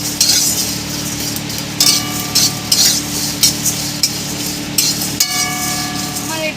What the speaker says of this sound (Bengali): এইগুলো সব একসঙ্গে আমি হালকা করে নেড়ে নেব